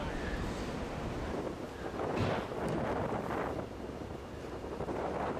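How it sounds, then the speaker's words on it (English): Strong wind buffets the microphone outdoors on a cold Wyoming golf course in a steady low roar, with gusts swelling and easing. "Cold and windy."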